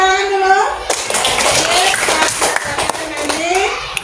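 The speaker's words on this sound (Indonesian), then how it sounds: "Tepuk tangan dulu." Children in a classroom break into loud, brisk hand clapping right after a voice speaks, and the clapping carries on for several seconds, mixed with children's chatter.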